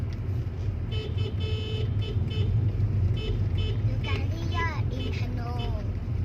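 Short car horn toots from a Honda City e:HEV descending a mountain road in thick fog sound over a steady vehicle rumble, with people speaking during the latter part.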